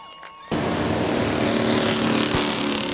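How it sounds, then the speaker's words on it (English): A crowd at Hartford Speedway Park applauding a factory stock driver, a sudden broad wash of clapping and cheering that starts abruptly and holds steady and loud, with engine-like noise blended in. "How about a hand out there for Chris May?"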